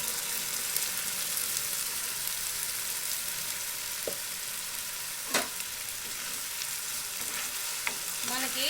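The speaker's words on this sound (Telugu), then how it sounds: "ఇగోండి టమాటా పేస్ట్ అయితే ఇప్పుడు వేసుకుంటున్నాను." Tomato paste sizzles and fries in a hot pan, a steady broadband crackle running throughout, with occasional scrapes and clicks of stirring near the mic.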